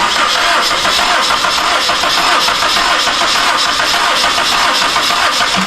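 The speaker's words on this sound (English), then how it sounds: "luckily we have an assistant to crank this over" Engine of a first-generation Honda CR-V cranking over on the starter during a compression test, a steady, loud, even churning rumble throughout without catching or firing.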